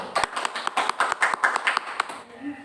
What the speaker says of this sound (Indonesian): berikan aplaus dulu untuk saudari Yepi